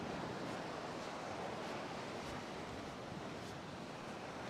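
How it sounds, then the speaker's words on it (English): An ocean wave washing in over shallow, clear water, a soft, continuous rushing hiss of surf, faint and distant, with no voices. "Here comes a wave."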